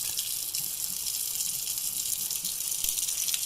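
Wild oyster mushrooms rinsed under running tap water, a steady, close rush of water splashing in a sink without pause and with no talk.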